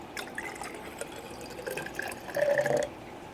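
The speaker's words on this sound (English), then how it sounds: "we take our culture and we just pour it in to the vase." A live food culture poured into a vase for feeding betta fry, heard as a soft, close trickle and splash of liquid that grows briefly louder near the end, with no talk.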